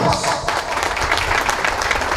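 Audience applause greets a municipal mayor at a school classroom inauguration in a Guatemalan village, a dense, steady burst of clapping from a crowd, fairly distant and continuous for a couple of seconds.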